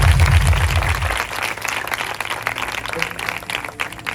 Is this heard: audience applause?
yes